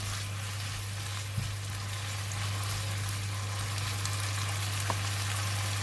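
Mushrooms stir-fry in a pan with a steady, moderate sizzle, a low constant hum underneath and occasional faint taps of a utensil against the pan.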